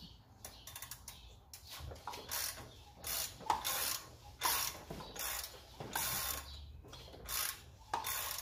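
A ratchet wrench turning over an Audi A4/A5 engine by hand during a compression test, giving repeated bursts of quick clicking in an uneven rhythm, close and fairly loud.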